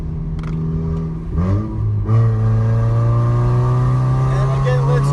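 Turbocharged propane-fuelled Chevrolet Optra engine revving, a loud close drone that dips and then climbs steadily in pitch past 3000 RPM, someone briefly talking over it.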